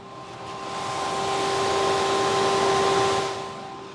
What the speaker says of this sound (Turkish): Bu duymuş olduğunuz ses arabanın şarjını bitirmek için kendisini zorlamasının sesi